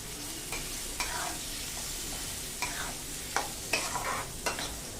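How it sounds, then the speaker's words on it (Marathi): Chopped onion sautéed and stirred in a pan while making baingan bharta, an eggplant dish. A steady sizzle runs throughout, with several scraping stirs of the spoon against the pan, close and moderately loud, with no voices. "हा कांदा छान परतून घेऊया."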